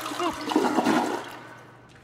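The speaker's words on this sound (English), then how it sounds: "Oh, and she flush." A toilet in the video game Bendy and the Dark Revival flushes with a loud gurgling rush of water that peaks early, then gradually drains away and fades into near quiet.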